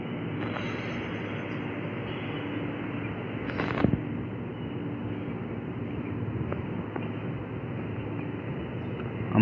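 Trains creep slowly over a crossover at Anaparthi railway station, giving a continuous low rumble with scattered clicks and clatter from the wheels. One sharper clank rises about midway.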